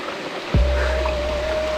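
A cold hillside stream on Nakkati Hill in Bongaigaon, Assam, flows in a steady, close rush of water that starts abruptly partway through and continues evenly, with a thin tonal hum above it and no talk.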